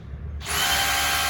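A power drill switched to hammer mode starts abruptly and keeps running with a loud, rapid, buzzing hammering, close up and alone without voices.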